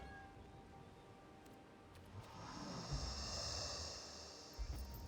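A pet cat meows indoors during a relaxed gaming session, a drawn-out cry rising after a quiet start and holding for a couple of seconds, fairly close and alone.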